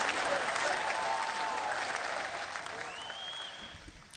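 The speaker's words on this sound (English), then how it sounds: "The crowd's a little excited to see you here, bud." An excited crowd at a live radio show meetup claps and cheers loudly right from the start, with whoops rising over the applause before it gradually thins out.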